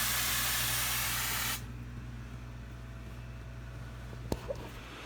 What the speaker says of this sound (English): it's starting to generate a bunch of steam